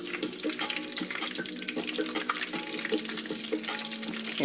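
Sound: chicken pieces frying in hot oil

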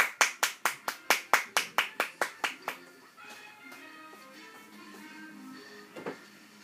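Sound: hand clapping

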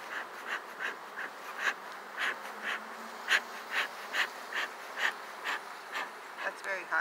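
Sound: honeybees buzzing

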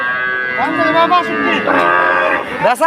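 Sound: cow mooing at cattle market

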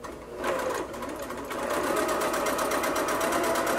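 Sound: sewing machine stitching marine grade vinyl mask

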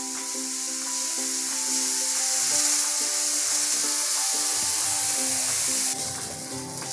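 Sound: onion and green chili lightly frying in a pan

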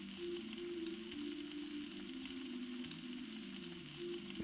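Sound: burgers sizzling on a grill in the video game Galaxy Burger

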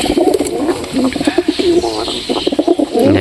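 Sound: fantail pigeon cooing

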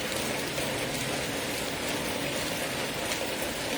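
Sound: rain falling on a garden

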